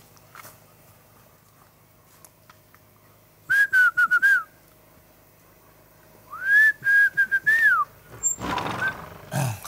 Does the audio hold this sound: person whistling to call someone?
yes